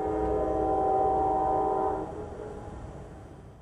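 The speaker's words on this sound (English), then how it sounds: "Amtrak's Sunset Limited westbound." Amtrak's Sunset Limited passenger train heading westbound, its horn sounding loud and sustained for about two seconds before it cuts off, leaving the rumble of the passing train fading away.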